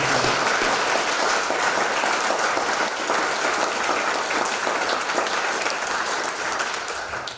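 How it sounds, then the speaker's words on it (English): Sustained audience applause for senior curators at a Smithsonian retirement tribute, dense steady clapping from a large crowd lasting throughout and tapering slightly at the end. "So if we could give a round of applause to our extraordinary senior curators"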